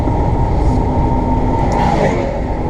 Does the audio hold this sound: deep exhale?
no